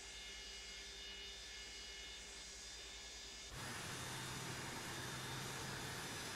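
Engine 2 of a Boeing 727 spooling up in Microsoft Flight Simulator, a steady whining hum that jumps abruptly to a louder, fuller jet roar midway and holds, heard alone without talk.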